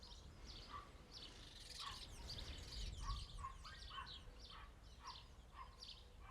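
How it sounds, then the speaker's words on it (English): Birds sing outdoors on a Greek evening, repeated bright chirping phrases at an even rhythm over a low wind rumble, moderately near with no talking. "The birds are with us this evening."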